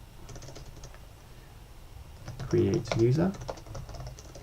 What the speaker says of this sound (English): So I'll type in help create